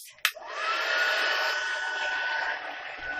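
A steady, whooshing blower hum starts after a short click and runs continuously at close range: a small heat tool warming embossing powder without pause.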